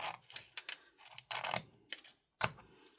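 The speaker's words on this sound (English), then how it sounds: "So now I'm going to trim this piece off." Paper trimmed for journal tags with a cutter, sounding as a series of sharp clicks, snaps and short slicing swipes in irregular bursts, close and fairly quiet, with no voice.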